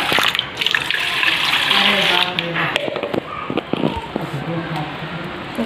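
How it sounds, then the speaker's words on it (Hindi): Running water from a tap splashes as lentils (dal) are rinsed in a kitchen sink, loud and close, with swishing and pouring that thins toward the end; someone talks over it. "देखिए कितना गंदा निकल रहा है, तो मैं इसीलिए धो लेती हूँ दाल को"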